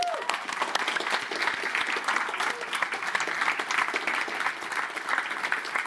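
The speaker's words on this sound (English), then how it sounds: "Let's give them a round of applause" A live conference audience at Codegarden 2024 applauds steadily for a team coming up on stage, a dense, even wash of many hands clapping that holds for several seconds.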